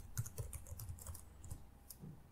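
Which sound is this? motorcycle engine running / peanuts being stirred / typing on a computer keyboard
typing on a computer keyboard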